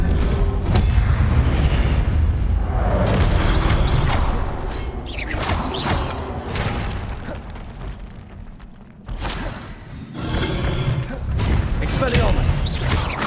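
Confringo blasting spell explosions in Hogwarts Legacy, loud booming blasts and whooshes in a dense, continuous stretch of game combat with mechanical clatter, a brief lull, then more blasts.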